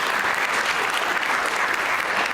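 A conference audience at a plenary talk applauds in a dense, steady wash of clapping that holds evenly throughout with no voices over it.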